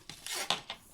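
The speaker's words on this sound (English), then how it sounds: "Either side of this mark I'm just going to cut" Scissors snip a small slit into card for a paper craft project, three quick close rasping cuts within about a second.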